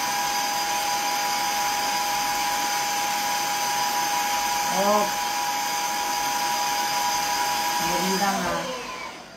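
A vacuum cleaner running: a loud, steady whine with a constant drone throughout, brief voices breaking in near the middle and end.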